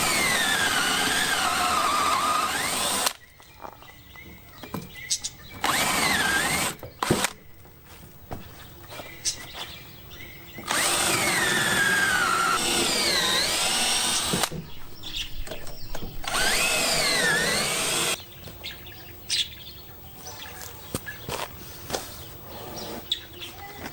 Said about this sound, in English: I'm going to countersink them with the spade bit so that they go in further